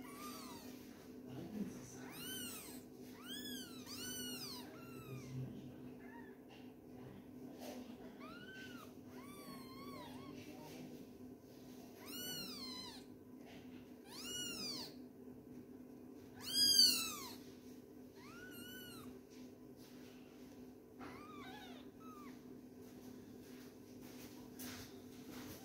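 A mother cat that recently gave birth to four kittens meows over and over after being called toward her food box. The calls are close, clear and come in irregular bursts over a steady low background hum, with one louder cry midway.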